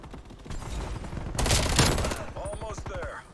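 Streetsweeper shotgun firing in Call of Duty Cold War, a dense burst of loud, rapid shots running about a second, with game sounds trailing after.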